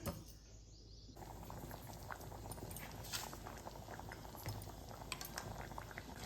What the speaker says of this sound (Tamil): நல்லா கொதிச்சு ஒன்றா சேர்ந்து வரணும்